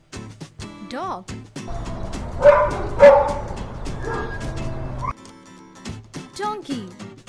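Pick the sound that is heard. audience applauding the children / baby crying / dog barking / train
dog barking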